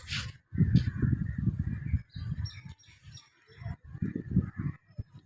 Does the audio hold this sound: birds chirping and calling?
yes